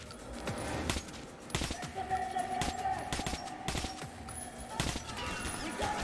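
Gunfire in the video game Metro: Last Light, a dense fusillade of sharp repeated shots at uneven intervals with a sustained tone running underneath, loud and continuous throughout.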